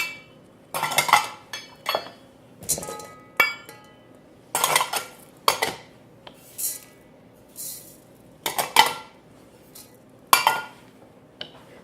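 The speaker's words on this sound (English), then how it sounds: "I just take a variety of things and dump them in a big bowl" Seeds and assorted ingredients are dumped into a big bowl, making a series of loud, close clatters and rattling pours, separated by brief pauses, with clinks of containers against the bowl and no speech.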